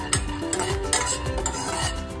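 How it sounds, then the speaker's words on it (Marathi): Dry peanuts are stirred and scraped in a pan, rattling with repeated rhythmic strokes and a faint sizzle. "आपण शेंगदाणे थोडेसे भाजून घेऊया"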